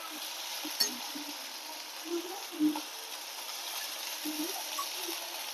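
Eggplant slices fry in hot oil in a pan, a steady close crackling sizzle broken by a few soft scrapes and clinks as the pieces are turned, with no speech over it.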